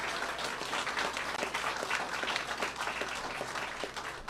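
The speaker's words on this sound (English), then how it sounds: "You can clap for Main Street." A crowd at a press briefing in Pennsylvania claps for Main Street, a moderately quiet, continuous patter of many hands that stays fairly even throughout.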